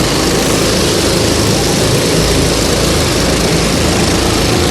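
Go-kart engines roar together in a loud, continuous, dense drone as the field gets away at the start of a Slideways Triple Challenge race.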